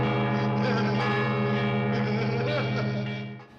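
Church bells of Notre-Dame swing in full peal, a loud, sustained wash of overlapping tolls with strong low hum and ringing overtones that continues steadily before fading slightly at the end.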